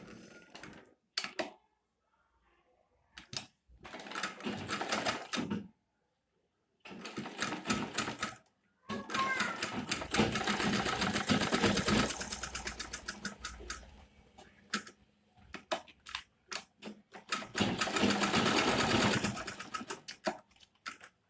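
Sewing machine running stitches along a leather wallet during handmade wallet-making, in several bursts of rapid mechanical clatter separated by short pauses, close and fairly loud, with no talking.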